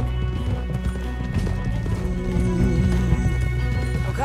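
Steady clip-clop of horse hooves trotting along in Red Dead Redemption 2, fairly close, with a rumbling background and a brief whinny-like sound mixed in; no speech.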